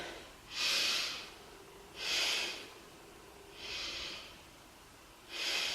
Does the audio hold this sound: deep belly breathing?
yes